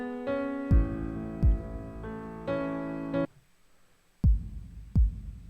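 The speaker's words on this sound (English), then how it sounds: "And I love these 909 kicks." Punchy 909 kick drum hits land at a steady rhythm within a song, alongside sustained synth or pad chords, then two more kicks ring out alone after the music drops away.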